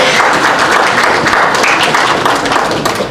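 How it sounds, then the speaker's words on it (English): A big round of applause from a conference audience at an HR conclave session, loud and dense, a continuous roar of many hands clapping at steady strength. "A big round of applause"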